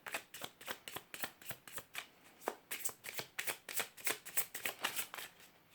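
Tarot cards riffled and cut by hand, a rapid train of crisp, papery flutters and snaps at close range, bursts repeating steadily with no talking.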